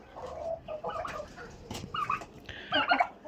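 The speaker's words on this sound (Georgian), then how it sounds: "იქიდან კრუხი მოდის." A farmyard hen clucks repeatedly near the listener in soft, irregular bursts, with quiet rustling in the background and no talking.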